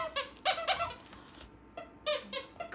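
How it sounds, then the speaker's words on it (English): Squeaky plush mushroom dog toy shaped like a Mario toad with paw prints on top, giving a series of sharp, high squeaks in quick bursts with short pauses between, close and loud. "And it also squeaks."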